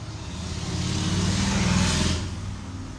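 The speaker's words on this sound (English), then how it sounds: "Sounds like the bike is inside of my freaking house." A motorcycle revving outside a house, its engine rising and swelling for a couple of seconds before easing off, moderately loud and fairly close.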